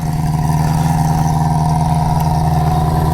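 A 1973 Honda CB350 Four motorcycle engine idles up close, a loud, steady, even four-cylinder burble that holds without any revving.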